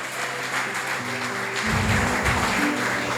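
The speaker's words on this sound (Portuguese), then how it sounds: "Você pode aplaudir o nome do Senhor Jesus Cristo?" A church congregation applauds together in a steady, dense wash of clapping that continues throughout, with a low rumble of music or drums joining partway through.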